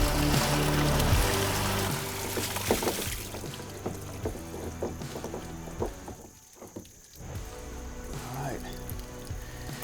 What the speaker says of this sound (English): Easiest way to fill these water troughs